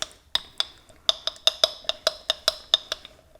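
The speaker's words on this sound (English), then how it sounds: "And just stir it up." Flat tool scraping and clicking against a bowl while stirring thick homemade texture paste, a steady series of about a dozen sharp, close clinks at an even rhythm.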